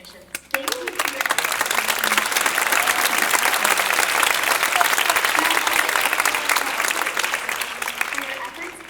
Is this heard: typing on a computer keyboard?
no